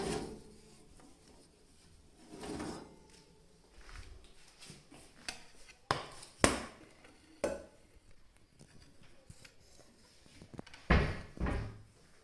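An oven door opens to reveal a baked wheat bread cake, with a series of close clunks, knocks and metallic rattles spaced irregularly and a few louder bangs toward the end, with no voices.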